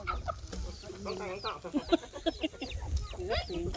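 A chicken clucks repeatedly while pecking at a duck in a rural yard. The clucks come close and fairly loud in quick irregular bursts, with people talking in the background.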